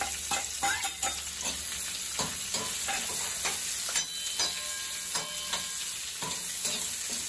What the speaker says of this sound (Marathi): आता ह्याच्यामध्ये कांदा टाकून द्यायचा